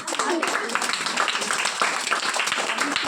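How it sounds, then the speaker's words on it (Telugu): Children in an audience clap together, a dense, steady patter of many small hands that stays loud and even for about three seconds. "క్లాప్స్"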